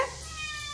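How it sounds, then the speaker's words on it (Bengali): A house cat gives one short, clear meow at close range, trailing off quickly into quiet room noise. "অনেকক্ষণ বিড়াল ডাকছে তোমাকে।"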